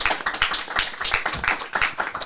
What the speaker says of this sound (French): On applaudit Fares s'il vous plaît.